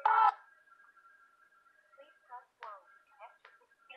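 Telephone dialing as a call is placed to a home seller on a real estate line: a brief loud burst, then a steady tone with short beeps and ticks over several seconds, fairly close and clear.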